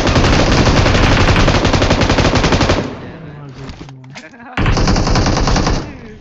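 Dense, loud automatic gunfire in the battle royale mobile game BGMI, a continuous rattle that breaks off briefly with a voice under softer sounds, then resumes as another sustained burst.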